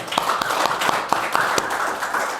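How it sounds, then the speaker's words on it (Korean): A church congregation claps at a steady, even rhythm: a moderate, roomy round of applause from many hands, heard alone without voices. "하나님께 영광의 박수"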